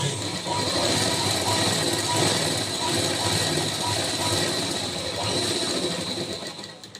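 A sewing machine stitches a folded strip of fabric for a princess-cut blouse, its needle mechanism whirring at a fast, steady, close-up chatter that runs continuously before easing off at the very end.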